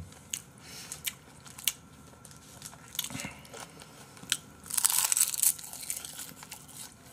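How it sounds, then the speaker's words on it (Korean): Crispy seaweed sheets being bitten and crunched while eating braised kimchi stew at a table, with soft crinkles and a louder burst of crunching near the end, close and fairly quiet. "김이 바삭바삭하니 맛있네요."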